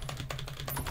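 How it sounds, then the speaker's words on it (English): Typewriter keys struck in the Roblox game Doors, a short burst of several quick clacking keystrokes close up, faint and alone. "Typewriter."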